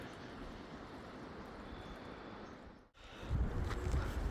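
Strong wind blows across a microphone while crossing a bridge in the mountains on the Rasuwa route toward Tatopani, a steady broadband rush that briefly dips and then returns heavier and more buffeting.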